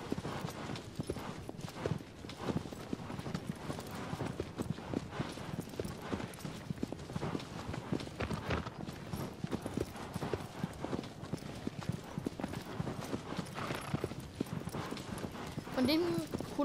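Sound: horse hooves while riding in video game Shadow of the Colossus

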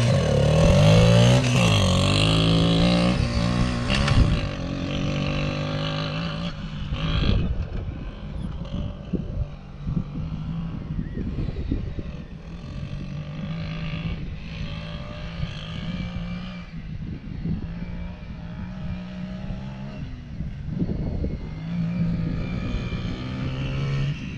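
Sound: Yamaha Raptor 80 mini ATV engine accelerating

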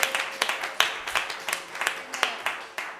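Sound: niece clapping in church

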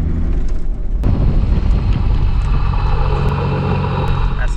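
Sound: 4WD braking repeatedly to bed in new brakes

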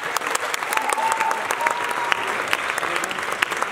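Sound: audience applause for veterans

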